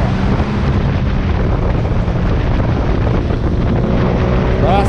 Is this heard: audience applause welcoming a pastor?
no